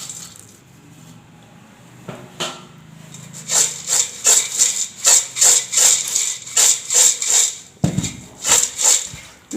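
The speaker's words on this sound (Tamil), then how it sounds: "இப்போ நம்ம கலக்கலாம். கலக்கி எடுக்கிறதுக்கு ஒரு பாத்திரத்தில் போட்டுக்குங்க." Fried boondi, cashews and salt being tossed together in a metal vessel for Diwali kara boondi, a run of rhythmic rattling, clinking scoops that begin after a brief shuffle and repeat steadily up close, with no talking.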